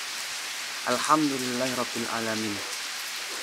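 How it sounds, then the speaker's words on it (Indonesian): Afternoon rain falls in Blitar, East Java, after a long dry season, a steady broadband hiss running throughout while someone speaks briefly in the middle. "Allah menurunkan hujan di sore hari ini, tepatnya di daerah saya Blitar, Jawa Timur."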